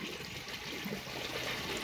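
A Kohler toilet with a 3-inch flush valve flushes in a steady, close rush of swirling water that continues without a break. No one is speaking.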